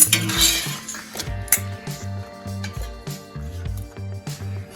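Ceramic and metal kitchenware clinks and clatters as a dish is set down for roasted masala papad, a series of close, sharp knocks and rattles with ringing tones over a quiet kitchen background.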